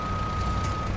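Electronic reversing beeper of a truck in Snowrunner, the off-road driving game, one sustained tone over a low rumbling engine, nothing else around it.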